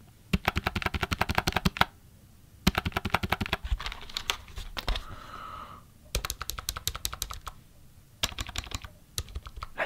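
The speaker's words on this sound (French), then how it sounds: "Je suis en train de me demander quelle est la touche la plus relaxante avec ce micro et ce clavier." An old-style computer keyboard is tapped in close, crisp bursts of rapid clicks separated by brief pauses, with the keys and space bar rattling near a microphone in a quiet room.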